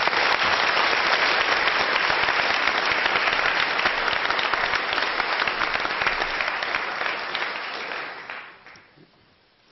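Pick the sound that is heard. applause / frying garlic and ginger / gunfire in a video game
applause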